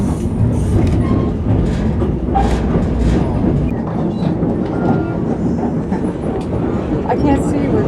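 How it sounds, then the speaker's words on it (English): A train rumbles past close by in Alaska with a loud, continuous roar and rhythmic clacking of wheels on rail that holds steady throughout, while people talk faintly beneath the noise. "The other train."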